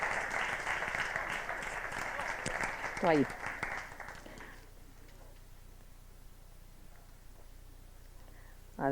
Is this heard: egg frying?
no